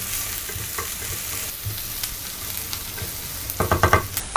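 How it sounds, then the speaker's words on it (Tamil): Small and big onions with curry leaves sizzle steadily in hot oil in a pan, then a spoon stirs them, adding loud close scraping clatter near the end; no one speaks. "சின்ன வெங்காயத்தையும் பெரிய வெங்காயத்தையும் நல்லா ஃப்ரை பண்ணிக்கணும்."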